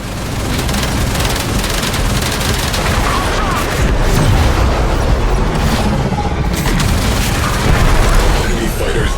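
A cruise ship's reactor detonates in the Warframe space-combat game: a thick, roaring wall of explosive rumble and crackling blasts that stays loud and continuous throughout, with no speech.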